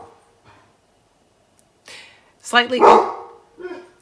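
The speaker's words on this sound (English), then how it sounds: "my dog was barking up a storm" A pet dog barks a few sharp, close barks indoors during a paper-crafting session, with someone speaking before and between them.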